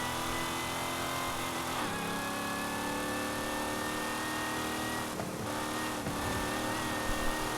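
A Dodge Coronet Super Bee in Forza Horizon 5 races with a steady, droning engine note that holds under load, rising in pitch and briefly dipping during gear changes, with no talking.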